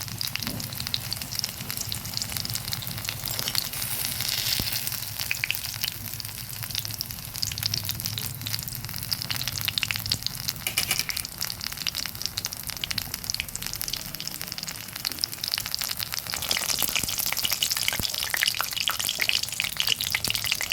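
Banana flower fritters in sweetened batter fry in hot oil, a dense continuous crackling sizzle that holds steady for a long stretch with occasional louder pops, close up and without talk.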